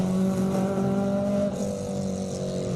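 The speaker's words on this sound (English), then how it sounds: "944 Porsche getting ready to take things on here at Speed Classic Cape Town" A classic Porsche 944 race car at the Speed Classic Cape Town hill climb holds a steady, loud engine note with strong harmonics, then eases slightly as it pulls away up the hill.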